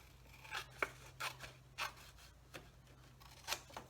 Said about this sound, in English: you take your scissors and you cut that off